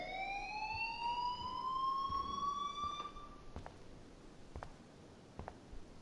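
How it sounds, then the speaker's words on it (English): Alarm ringing in the video game Life Is Strange: a loud electronic tone with rising sweeps holds steady for about three seconds, then stops, leaving quieter background noise with a few faint clicks. "shouldn't his job be to figure out what tripped the alarm instead of just turning it off?"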